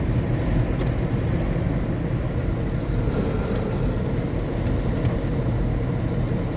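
A car coasting at about 90 km/h with its engine switched off, in Wadi-e-Jinn. A loud, constant roar of tyre and wind noise fills the cabin, with no voices.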